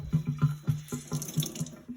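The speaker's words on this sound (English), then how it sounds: "So that means water will go in the glove." Tap water runs into an inside-out Sealskinz waterproof glove, a close, steady splash with rhythmic glugging pulses as the glove fills, no voices.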